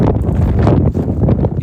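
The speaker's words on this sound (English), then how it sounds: "It is very windy today," Strong wind buffets a handheld microphone outdoors on a downtown street, a loud, continuous low rumble that gusts unevenly throughout.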